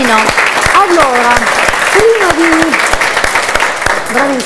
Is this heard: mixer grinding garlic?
no